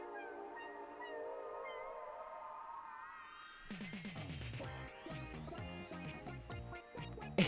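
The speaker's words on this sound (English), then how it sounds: "sounds like cats doing Evangelion." Cats meowing in a drawn-out, warbling, musical way, layered sustained tones that rise and then break into choppy, pulsing bursts, fairly quiet and with no talk over them.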